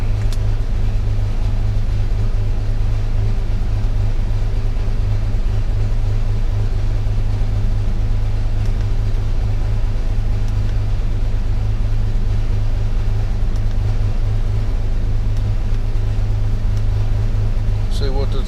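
A 1998 Ford Ranger 3.0 farm truck idles on a cold start with its high idle settling down, a loud, steady low engine rumble close by with no breaks.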